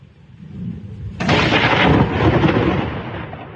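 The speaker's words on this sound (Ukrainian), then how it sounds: "Принесла вона не лише темінь, але й проливний дощ із блискавкою." A thunderstorm roars in: low rumbling gives way to a sudden loud crack of thunder and a sustained, heavy wash of downpour that stays loud to the end.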